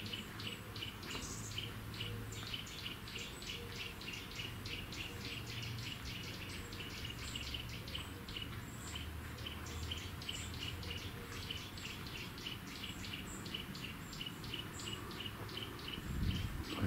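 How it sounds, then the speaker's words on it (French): Birds sing steadily outdoors in the grounds of the Château de Gisors, with repeated high chirps and trills continuing over the whole stretch beneath a faint low rumble of wind or distant traffic, and no talking. "Les oiseaux."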